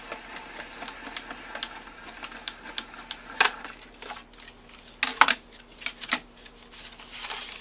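A Craft Concepts embossing folder sandwich is cranked through a manual embossing machine, giving a series of close, quiet clicks and ratcheting rasps with a few sharper crunches along the way.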